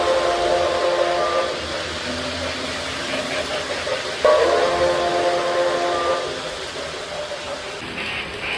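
A Lionel model train steam whistle blows in long sustained tones over a continuous hiss and rumble of the small train running.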